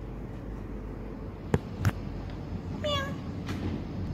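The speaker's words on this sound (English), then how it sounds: "You see that cat?" A cat gives a few short meows against a quiet indoor background, with one longer wavering cry near the end.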